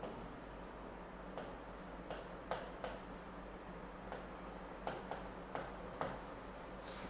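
Handwriting during a Hindi-language general-knowledge exam lesson: faint, scratchy pen or chalk strokes come in short irregular bursts over a low steady background hum, with no talking.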